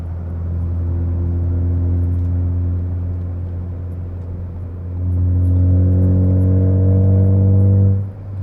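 Ford Focus ST fitted with an Accelatec 3-inch stainless track cat-back exhaust, cruising uphill under load at about 2,400 RPM and 65 mph: a steady, low droning engine and exhaust hum that swells and deepens midway, smooth and continuous with no talk.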